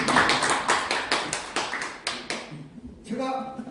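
Audience clapping during a lecture in a course on global competition, a short burst of rhythmic, fairly loud claps in unison that quickly fades out, with voices following.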